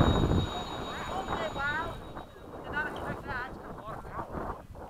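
FMS 70mm A-10 V2 ducted-fan model jet flying on a windy day, a steady whooshing roar rising and falling as it passes, with wind buffeting the microphone and people talking over it.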